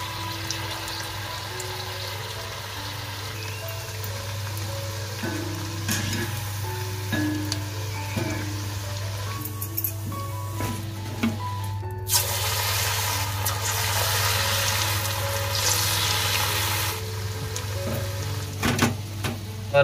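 Onion bhaji frying in hot oil in a kadhai, a continuous bubbling sizzle under a low steady hum that swells louder and hissier midway, as if fresh batter drops in, with no talk.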